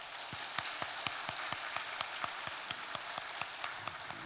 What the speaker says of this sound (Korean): 우리 박수로 환송하도록 하겠습니다